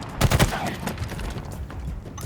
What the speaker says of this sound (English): The stalker rifle's pretty interesting in campaign.